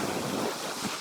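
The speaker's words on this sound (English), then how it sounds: "Those are waves crashing." Ocean surf washing and crashing in a steady broadband wash with gusty wind noise, no voices.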